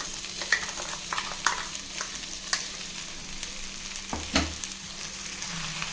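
Ground onion paste with crushed ginger and garlic sautés in a pan for veg diwani, giving a soft continuous frying hiss broken by occasional stirring clicks and scrapes.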